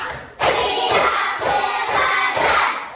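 Students in a classroom clap together in a counted rhythm, five loud, evenly spaced group claps landing close together in a lively room.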